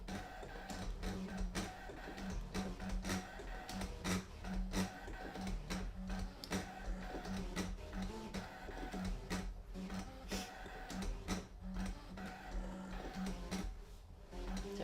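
A ScanNCut cutting machine slices words into heat transfer vinyl, giving off a steady, busy mechanical whir with rapid ticking and clicking carriage movements that continue close and unbroken throughout.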